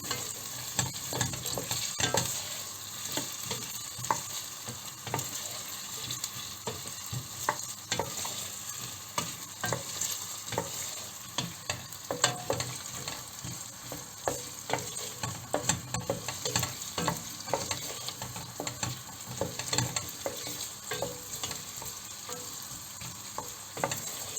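Continuous frying of diced potatoes in a pan, a dense crackling sizzle with frequent stirring clicks and scrapes, close up and steady throughout.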